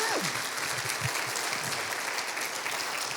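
A church congregation applauding during a sermon, with loud, continuous clapping from a crowd and voices calling out underneath throughout.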